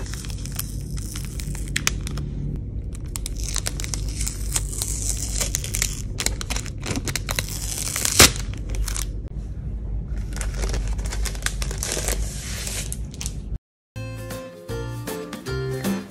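Plastic packaging around a pack of Arches watercolor paper is unwrapped, giving dense, continuous crinkling and crackling with sharp snaps up close, followed by a short gap and a few more rustles; no talking.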